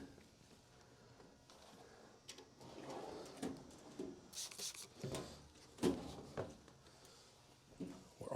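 Metal Snap-on toolbox drawers slide open one after another with scraping rattles and thuds, several distinct bursts spread irregularly across a quiet background.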